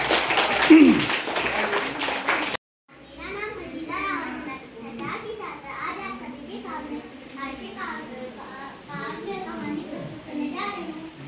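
A school audience applauds a child performer at a Hindi fortnight student programme. The dense clapping lasts about two and a half seconds and then stops abruptly, followed by someone talking.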